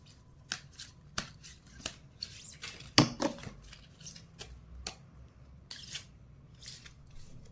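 Tarot cards handled and shuffled up close, a series of soft crisp snaps and riffling flicks spaced irregularly, with one louder rustling burst midway, otherwise quiet.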